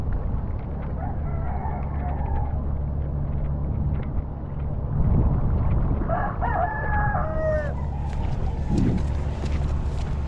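Rooster crowing and chickens clucking against a steady low rumble of engine and wind noise, with occasional bird calls breaking through, after a typhoon.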